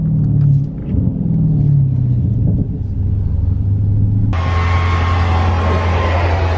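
A car fitted with new, wider wheels on tires set to 35 psi rumbles as it drives. A low engine drone shifts into a louder, brighter road roar partway through, with no talking.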